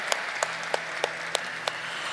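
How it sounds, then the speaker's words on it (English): A Hyundai Motor India stock listing ceremony, with about six separate, evenly spaced claps over a faint steady hum rather than a full round of applause. "you want to clap for that? Please, go ahead"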